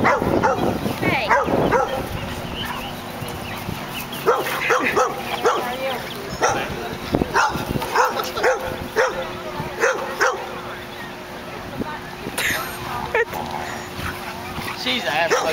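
Small dogs play at an outdoor farmer's market in Memphis, yipping, whimpering and barking in quick, repeated bursts close by, while people talk over the steady crowd background.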